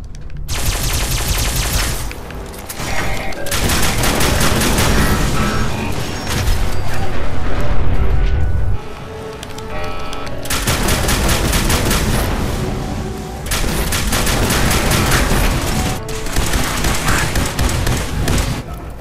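Heavy automatic gunfire from a fight against robots in Fallout 4, loud and sustained in dense bursts with brief lulls, layered with booms and mechanical clatter and no talk.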